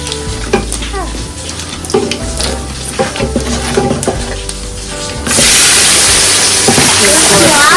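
Khichuri spices such as cumin paste, chili and bay leaf stirred and fried in oil: intermittent close scraping under a talking voice, then a sudden loud, sustained sizzle takes over.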